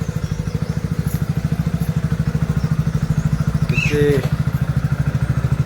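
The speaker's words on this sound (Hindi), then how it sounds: "अभी बाइक मैंने स्टार्ट करके छोड़ दी है" A motorbike left running after a cold start idles with a steady, even low thumping throb, close and continuous, while someone speaks briefly over it and a short squeaky clatter rises near the middle.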